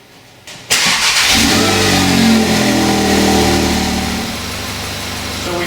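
A car engine cranks and catches after a quiet moment, settling into a steady, loud close-up idle that eases slightly lower after a few seconds.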